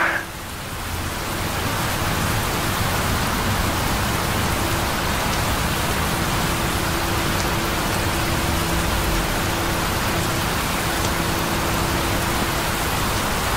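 Steady, even rain hisses throughout, a dense wash of drops falling without pause and no voices.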